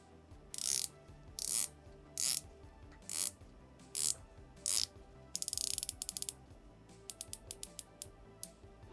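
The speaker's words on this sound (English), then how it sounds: "The bezel action is actually very good on this watch." Bezel of a 40mm Spinnaker automatic watch being rotated, giving a series of crisp, close ratcheting clicks, first in evenly spaced bursts and then a quicker run of sharp single clicks.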